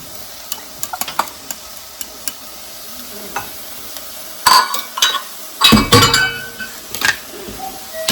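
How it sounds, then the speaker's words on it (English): Onions sautéing in butter for onion soup, with light spoon clinks and scraping against the pan, then louder bursts of stirring and glassy knocks toward the end. "we're going to just kind of saute these until they're translucent"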